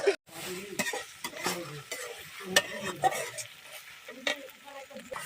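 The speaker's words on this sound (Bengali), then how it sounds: "গরু মাংসটা একটু নাড়া দেখা" A spoon scrapes and stirs steadily through beef in a pan, over a continuous sizzle of frying, with a few louder clinks.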